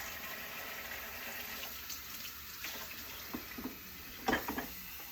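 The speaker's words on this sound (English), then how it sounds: "Filling the coffee pot." Tap water runs into a coffee pot in a home kitchen early in the morning, a steady close hiss of filling water with a few clinks of the pot near the end.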